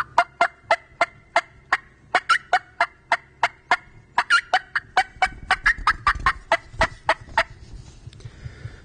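Mouth call used by a turkey hunter imitating excited hen cutting, a rapid series of sharp, loud clucks in irregular bursts, some with higher yelp-like notes, alone in a quiet spring outdoor setting.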